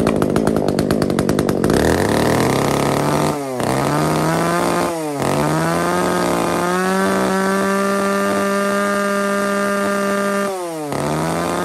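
A Makita chainsaw runs loudly up close, its engine revving and dropping in repeated swells with a steady buzzing idle between bursts.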